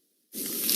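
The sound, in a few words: biting into crunchy cheesy pizza slice, advertisement effect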